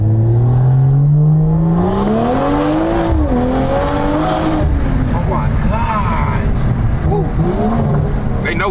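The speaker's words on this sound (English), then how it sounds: "Hear the pops real quick." A BMW M340i engine revs hard and climbs in pitch, loud and close, with crackling exhaust pops and a rising whine mixed with road noise and people talking over it.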